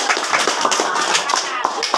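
Children in a classroom clap their hands in quick, uneven beats during a science demonstration. The clapping is fairly close, and voices talk over it throughout.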